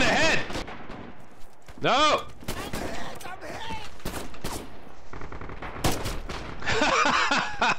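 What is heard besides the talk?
gunfire in the video game Red Orchestra 2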